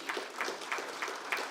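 Audience members clapping at an annual international conference, a few sparse, evenly spaced claps at a distance, fairly faint in a quiet room.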